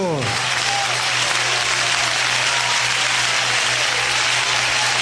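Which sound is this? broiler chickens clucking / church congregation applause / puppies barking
church congregation applause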